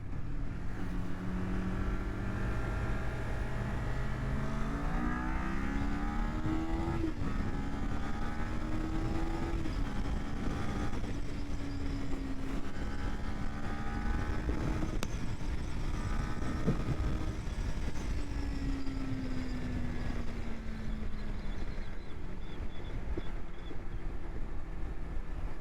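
A 2023 Kawasaki Ninja 400 motorcycle engine held high in the revs, a loud steady drone with rising and falling pitch sweeps as it climbs through gears, close and continuous without speech.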